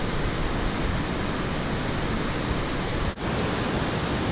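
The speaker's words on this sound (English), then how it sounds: "an awesome valley, and a huge waterfall" Huge waterfall in a valley, a loud, constant broadband roar of falling water with no variation, briefly dipping once near the end.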